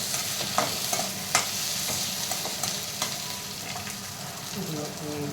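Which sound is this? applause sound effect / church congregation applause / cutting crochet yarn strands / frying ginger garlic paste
frying ginger garlic paste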